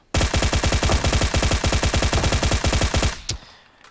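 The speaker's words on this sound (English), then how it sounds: "So let's put a suppressor on and see if that changes anything with the light grip." A suppressed M762 Beryl assault rifle in the PUBG video game fires a long, rapid automatic burst of about thirty evenly spaced loud shots, then stops abruptly with a brief tail, and no one talks.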